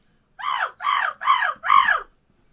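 A person imitates a crow's caw with four loud, harsh, evenly spaced calls, each slightly falling in pitch, close to the microphone in a quiet room.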